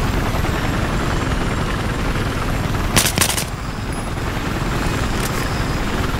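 Helicopter in Battlefield 4, a loud, continuous rotor and engine roar that fills the scene. A short burst of gunfire cuts through it partway, and a few faint clicks follow.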